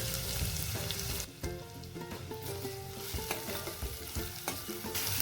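Finely chopped onion sautés in a pan until golden, a close, continuous sizzle broken by frequent scraping and clattering from stirring.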